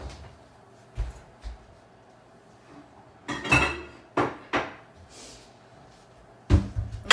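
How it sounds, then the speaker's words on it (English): In a home kitchen during pie crust making, a pie pan is picked up with a few scattered metallic clatters and knocks, close and moderately loud against a quiet room. "let me grab my pie pan as well though"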